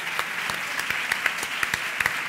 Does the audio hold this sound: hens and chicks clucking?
no